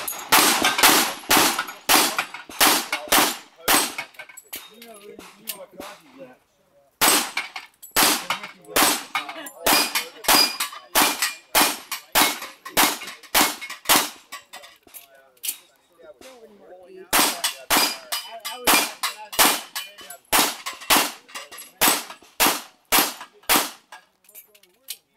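Rapid strings of loud, close gunshots ring out on a shooting competition stage, falling into three long bursts split by brief pauses, with faint voices between strings.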